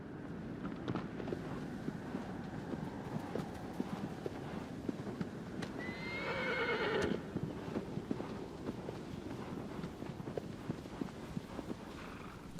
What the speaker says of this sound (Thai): มีเพียงเสียงลม และเสียงกีบม้ากระทบพื้น